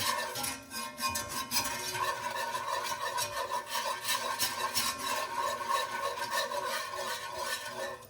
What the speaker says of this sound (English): I'm gonna go ahead and use my whisk.